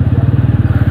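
A Bajaj Pulsar N160 motorcycle engine chugs with a steady, rapid low-pitched pulse, close by and loud, as the bike rolls into a showroom.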